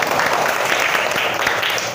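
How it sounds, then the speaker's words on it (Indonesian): Students in a classroom clap together in a brief, busy burst of applause, close and fairly loud for about two seconds. "Baik, tepuk tangan untuk kita semua."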